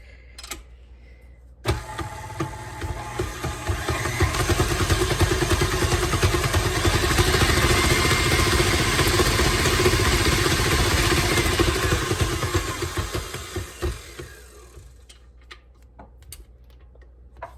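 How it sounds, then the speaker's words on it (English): An electric stand mixer with a paddle attachment beats eggs for sugar-free keto brownies, a loud steady motor whir that starts abruptly, ramps up, holds for about ten seconds and winds down, with no talking. "I'm going to get the paddle on here, and we're going to go ahead and mix this until it is frothy."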